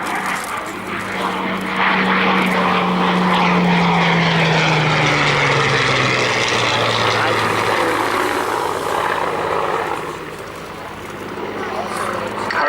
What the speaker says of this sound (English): Hurricane designed by the great Sidney Cam.